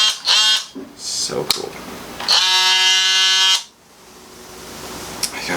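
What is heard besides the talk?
Dewalt brushless oscillating multitool running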